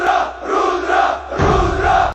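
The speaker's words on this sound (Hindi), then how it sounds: "भीड़ से एक साथ नारा उठा।" A village crowd at a dangal wrestling match shouts a slogan together, two loud surging bursts of many voices in unison, the second rising sharply before cutting off abruptly.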